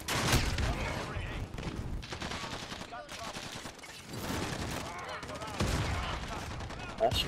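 Gunfire from a Call of Duty Vanguard match, including sniper rifle shots, cracking in dense repeated bursts throughout, with a strong shot near the start and more near the end, mixed with game noise and some voices.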